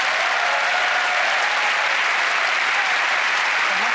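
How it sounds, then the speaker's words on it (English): Steady, dense applause from a magic show studio audience fills the whole stretch at an even, fairly loud level, with no voices standing out. "Give her a round of applause."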